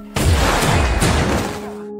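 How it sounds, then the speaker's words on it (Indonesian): A sticky bomb planted on a gangster's back detonates in a single loud, booming blast that rolls into a sustained rumbling roar and slowly fades, with no voices over it. "Akibat hal itulah ledakan pun terjadi."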